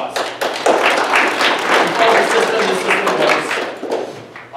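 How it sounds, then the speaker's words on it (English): Audience applause fills a seminar room at a real estate wealth-building program, a dense, steady patter of clapping with some vocal noise mixed in, holding for several seconds before thinning at the end. "Let's give that a big round of applause."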